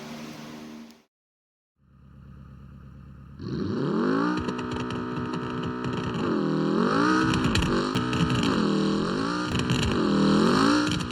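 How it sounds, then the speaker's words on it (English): A jet-powered Gavril J-Series car in the BeamNG driving game launching down a drag strip, a loud, steady engine roar with rising and falling whining tones that builds after a brief pause and carries on to the end, with no talk. "This lightweight combined with the jet engine strapped to the back makes for a very quick car."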